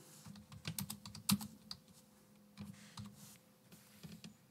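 Computer keyboard keys tapped to enter a line of text in laser software, a quiet, irregular run of clicks with a few louder strikes, close and alone.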